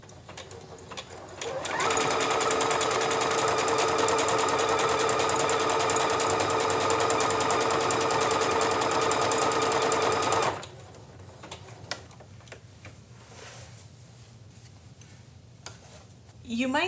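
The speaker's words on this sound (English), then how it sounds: "You might not feel comfortable with how fast the machine is sewing" Sewing machine stitching fabric for an appliqué on a cloth tote bag, a loud steady whir running for about nine seconds before stopping, with quieter handling noises before and after.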